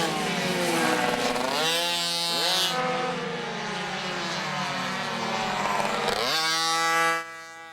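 Mini moto motorcycle buzzing through its final practice on a track, the high-pitched engine rising and falling as it shifts and passes close by, then cutting off sharply at the end.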